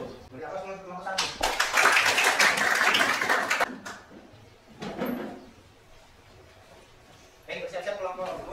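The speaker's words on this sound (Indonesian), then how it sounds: "Beri aplaus untuk kelompok 1" Audience applause for a presenting group in a classroom peer-teaching session, a dense burst of clapping for about three seconds, a shorter flurry after, then another round near the end, with some voices mixed in.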